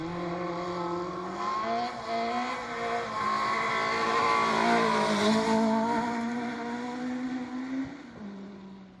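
A rally car, a 1400 class entry, driven hard on a special stage, its engine revving high and shifting through gears as it passes, loud and sustained with rising and falling pitch over several seconds.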